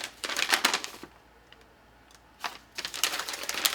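Crisp rustling and crinkling of a paper envelope being handled and torn open from a sword package, in two close bursts separated by a short quiet pause.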